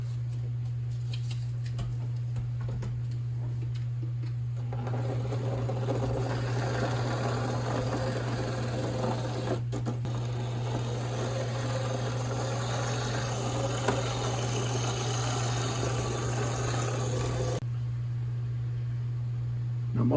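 Dual-power B unit model train locomotive running on two-rail DC track, a steady mechanical whir and rattle starting after a few seconds over a constant low electrical hum, then cutting off near the end.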